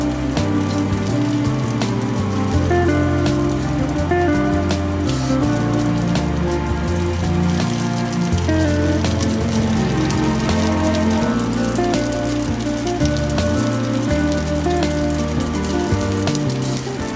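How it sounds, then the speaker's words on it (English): Breaded spaghetti wrapped around cheese and sausage fries in hot oil, giving a loud, steady crackling sizzle that holds throughout with no pauses. "Fry each side very well, just till golden brown."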